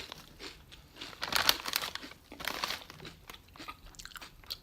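Ruffles Double Crunch Zesty Cheddar potato chips being bitten and chewed close up, a series of loud, dry crunches in uneven bursts with brief pauses between bites.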